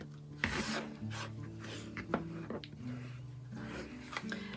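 A rotary cutter slices quilting fabric for a half-square triangle block along a ruler, with soft scraping and rasping strokes at close range over a low background hum.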